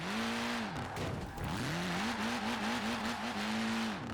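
An upgraded Mini in Forza Horizon 4 revs high toward 8,000 rpm, its engine whine climbing repeatedly with quick drops between shifts, loud and close with no talk.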